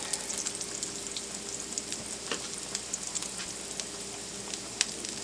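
Bread pieces with rosemary frying in a pan of generous olive oil, a steady close sizzle with scattered crackles and pops throughout, no voices.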